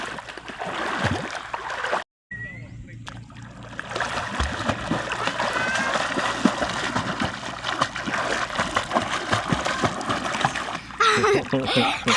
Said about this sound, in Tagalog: Bigla-bigla ka na lang tatalon sa ilog, ha?